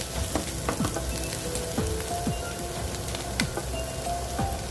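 Onions and chili frying in a pan for a spicy crab roast, a dense crackling sizzle broken by quick spatula scrapes and taps, close and fairly loud with no talking.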